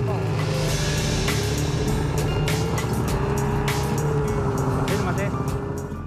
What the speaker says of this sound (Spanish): llegar al bote que nos tiene preparado Luis, estamos obligados a subirnos a esta moto de nieve.